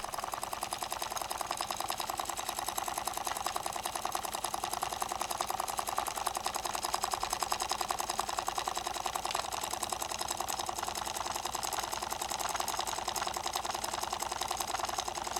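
A homemade no-drag generator running with a steady, dense buzzing whir at a constant rapid rhythm, even and unbroken throughout, with no voices.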